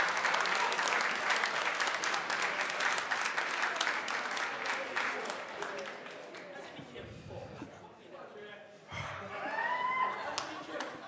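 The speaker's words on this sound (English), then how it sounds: "Round of applause for everyone." A crowd at a student union election results night bursts into loud, sustained applause and cheering that gradually thins, with a few shouts and voices rising near the end.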